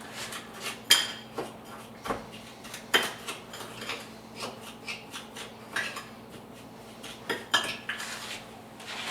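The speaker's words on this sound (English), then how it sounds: "So we're going to mix this up really," A spoon clinks and scrapes against a bowl while a spice rub for bacon is mixed, producing irregular close taps and clatters with short pauses between strokes.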